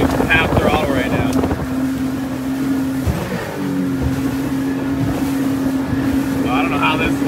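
A Sea-Doo Speedster Sportster 4-tec jet boat runs at half throttle with a steady loud engine hum, briefly dipping before resuming, mixed with heavy wind buffeting and splashing water, and a rider talking over it.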